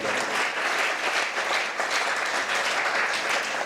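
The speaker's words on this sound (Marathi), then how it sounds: "2दा जोरात टाळ्या वाजवा" Loud, dense applause from an audience at an inauguration ceremony for a teacher-training college cultural programme in Barshi, a steady wash of many hands clapping that runs unbroken from start to finish.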